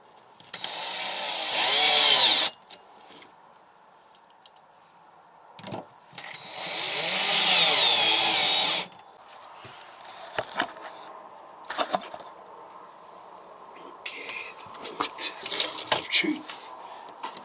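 Power drill driving screws during renovation of a 1996 Phoenix USA camper, two loud whirring bursts of a couple of seconds each, followed by lighter clattering handling noises as someone speaks.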